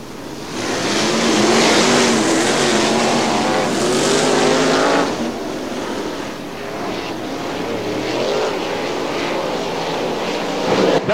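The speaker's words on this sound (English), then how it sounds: "Doug Zimmerman standing on the gas, giving a wheelie exhibition at the start" A field of 410 sprint race cars roars off the start at Butler Motor Speedway in Quincy, one driver standing on the gas into a wheelie; loud, dense, continuous engine noise swells and holds, dipping slightly midway.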